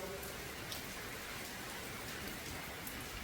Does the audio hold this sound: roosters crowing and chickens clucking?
no